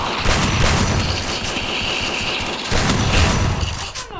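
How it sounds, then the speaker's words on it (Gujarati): Gunfire in the Free Fire mobile game, with rapid, continuous bursts of automatic shots and heavier booms overlapping in dense, loud volleys that pause briefly and then resume. "બંદૂક ગોળી મારતો હતું."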